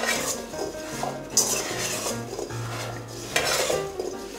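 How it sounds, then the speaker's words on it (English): A spoon stirs sliced apples coated with cinnamon and sugar in a bowl, giving a steady run of close scraping and clinking against the dish with no talking. "you just mix it with a spoon, so until all the apples are coated with the cinnamon and the sugar"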